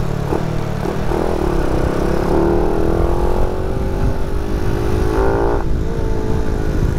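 A Yamaha WR155R motorcycle engine revs steadily and loudly up close, its pitch climbing and holding through a sustained pull before easing, with no talking over it.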